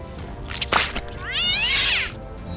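A cat meows in a film scene about an alien parasite leaving a brain to invade a cat: a sharp noisy burst, then a long rising-and-falling meow, loud and close.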